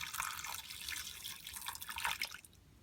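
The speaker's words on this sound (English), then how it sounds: "now let's just top it up with some more water" Water trickles and drips into a container holding resin pieces being washed, a close, fairly faint splashing with no talk.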